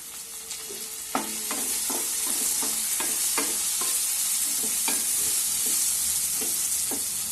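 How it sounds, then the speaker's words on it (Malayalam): Tomatoes frying in hot oil in a kadai with fennel seeds, a steady loud sizzle broken by repeated clacking stirs of a spoon against the pan, about a dozen scrapes and knocks spread irregularly throughout. "അപ്പോൾ ഇതൊന്ന് ഇളക്കി കൊടുക്കാം. ഇനി തക്കാളി ഇട്ട് കൊടുക്കാം."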